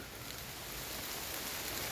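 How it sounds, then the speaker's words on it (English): Heavy rain pouring down outdoors at night, a faint, dense, unbroken wash of hiss with no distinct drops or other sounds. "The rain's really coming down now."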